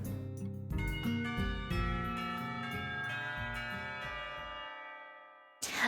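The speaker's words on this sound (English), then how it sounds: "The bell rings to signal the start of first period, cutting our conversation short." A melodic school bell chime in the visual novel Katawa Shoujo rings out to signal the start of first period. Sustained, ringing tones sound clearly for about five seconds, then fade away, with no talking.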